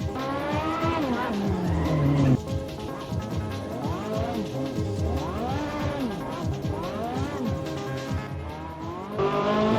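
Ferrari 458 V8 supercar driven hard on a race track with traction control off, its engine rising and falling through repeated gear changes in loud revving sweeps, with tires squealing.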